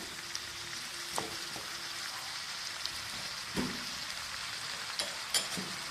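Drumsticks frying in an oiled pan for a pumpkin curry, giving a steady, soft hiss of sizzling with occasional sharper pops and clinks, close and unbroken without talk.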